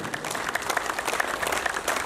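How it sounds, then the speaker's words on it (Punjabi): An audience at a class program claps steadily, a dense, continuous patter of many hands at moderate distance, with faint voices mixed in. "ਇਹਨਾਂ ਦੀ ਤਾੜੀਆਂ ਵਧੀਆ ਵੱਜਣੀਆਂ ਚਾਹੀਦੀਆਂ ਨੇ।"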